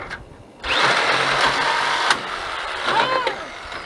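A power saw cuts into the body of a 1985 Dodge Ram D50 near the torsion bar, a close, loud, steady grinding whine that starts abruptly and rises and dips as the blade bites, with voices mixed in.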